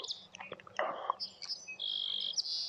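Birds chirping outdoors: a scatter of short, high chirps and tweets, then a longer sustained whistled call, fairly close and clear with no talk.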